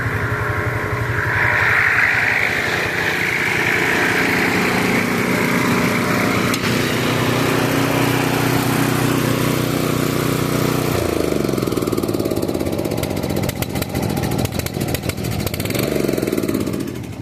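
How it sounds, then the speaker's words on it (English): A rough cut mower runs steadily while mowing a field, its continuous engine drone holding a loud, constant level close by with no talking. "Pretty good little mower."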